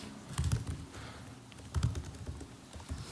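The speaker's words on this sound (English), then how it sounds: "let me see if I can type this out" Keystrokes on a computer keyboard as an SQL query is typed out, a few clustered bursts of clicks with short pauses between them, close and fairly quiet.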